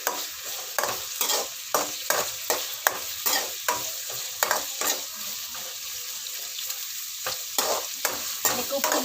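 Onion, ginger and garlic fry in a pan, a bright continuous sizzle broken by regular scraping strokes of a stirring spoon, heard close and alone.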